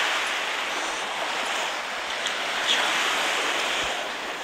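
Sea waves wash onto the shore at Omura beach on the Toyama coast of Japan, a steady close rushing surf that swells slightly and never stops.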